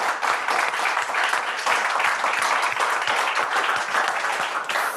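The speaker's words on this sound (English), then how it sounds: "I think we need to give Elisa an applause." A meeting audience applauds in a dense, steady burst of many hands clapping together. The sound is loud and close and lasts throughout with no voices over it.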